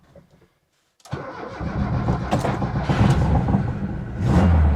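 A Lada Niva engine cranks after a second of near silence, catches and settles into a loud, close, rough idle that swells slightly near the end.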